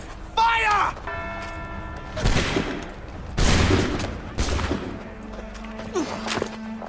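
A musket volley fired on command in Assassin's Creed 3, heard as several loud, sharp bursts spread across the moment. Voices speak in between.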